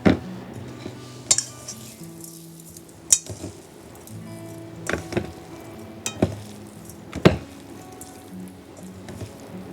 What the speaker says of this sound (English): I'm just going to very gently mix this together